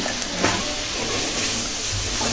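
Spices sizzle and get stirred in a pan while cooking a tuna fish curry with broad bean seeds and peas, a steady frying hiss with a few light scraping clicks near the start.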